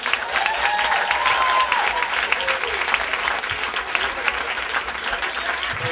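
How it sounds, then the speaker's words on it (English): A comedy club audience claps and cheers in sustained, dense applause that fills the room from start to finish, with a few voices faintly mixed in. "Come on, give him another round of applause."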